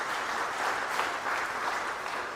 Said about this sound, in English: would you go ahead and give one another a round of applause?